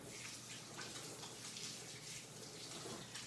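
Hands being washed under a running tap during meatball preparation, a steady soft wash of flowing water at close range with no talk.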